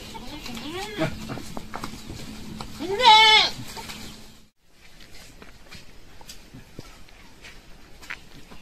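Goats bleat loudly and close, a couple of wavering cries, then a quieter stretch of shuffling and rustling, with speech in the background.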